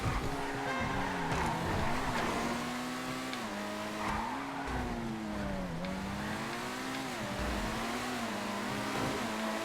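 A supercar engine revs hard during a GTA FiveM street race, a loud sustained whine rising and dipping with gear changes and tire squeal, with no voices over it.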